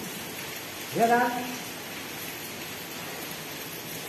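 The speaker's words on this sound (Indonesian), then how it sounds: "Hujan begini." Steady rain falls continuously as a dense, even hiss throughout, with a voice speaking briefly near the start.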